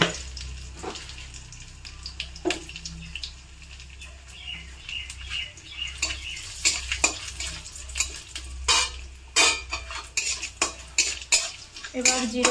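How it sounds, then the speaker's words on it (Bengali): Whole cumin seeds fry in hot oil in a pan, giving a quiet sizzle under scattered metal clinks and scrapes from stirring, which grow busier and louder toward the end. "তেল গরম হয়ে গেছে, দিয়ে দেব অল্প গোটা জিরা"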